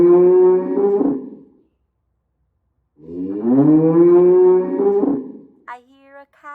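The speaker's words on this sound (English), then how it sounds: "I hear a cow." A cow moos loudly and close, two long drawn-out calls separated by a silent gap, followed by a short higher-pitched animal call at the end.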